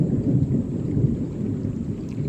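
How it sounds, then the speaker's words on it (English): Low, continuous rumble of thunder from an approaching storm, rolling steadily and fairly loud through the whole stretch, with a light wash of rain-like texture and no voices. "storm is getting closer."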